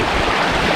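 A stream of water in Thrissur rushes past in a brief, loud, steady wash with no voices.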